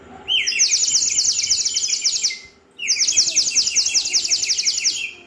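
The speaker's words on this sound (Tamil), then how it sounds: "நேச்சுரல் குருவி மாதிரியே சவுண்டு வருது பாருங்களேன்." A water-filled clay bird whistle blown in two long bursts, producing rapid warbling, sparrow-like chirps separated by a short pause, close and clear.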